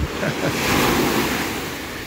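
Ocean surf breaking on a shore, a steady, loud broadband rush of waves with wind buffeting the microphone, continuous for about two seconds with no voices.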